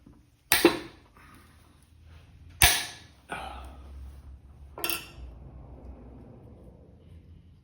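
Socket head screws being worked loose on a Black & Decker 8 gauge nibbler during a refurb: three sharp metallic clicks and knocks spaced a couple of seconds apart, followed by a fourth, each with a short rattling tail over faint low rumble.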